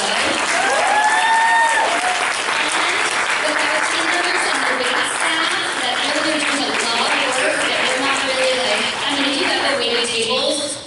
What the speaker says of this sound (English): High five and a round of applause for the husband that's making it home this way